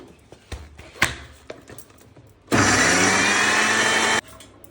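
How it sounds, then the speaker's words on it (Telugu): A mixer grinder blends black-eyed peas with ginger and green chillies: after a few clicks and knocks, the motor roars loud and steady for under two seconds, then cuts off. "నేనైతే నాలుగు పచ్చిమిరపకాయలు వేసాను దీన్ని మిక్సీ పట్టుకుందాం"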